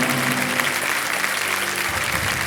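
Studio audience applause on a Hindi TV quiz show set, a dense steady wash of many hands clapping at even loudness throughout, with a low music bed underneath.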